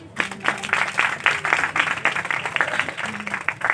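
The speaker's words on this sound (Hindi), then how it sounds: "आगो पाटी ताली मारो" Audience applause at a church revival meeting in Padmapur, a steady crowd clapping with dense overlapping hand claps filling the room, moderately loud and continuous throughout.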